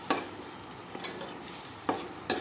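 Masala for spiced okra frying in a pan as chili powder is stirred in, a soft steady sizzle with several sharp scrapes of a spoon against the pan.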